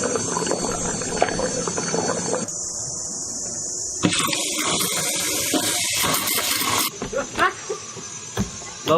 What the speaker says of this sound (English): Well, we got the shower working alright.